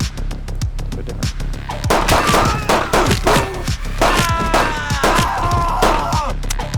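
Gunfire and impact thuds from the brawler video game Midnight Fight Express, a rapid run of sharp, loud shots and hits packed closely together over a steady game soundtrack, with no talk.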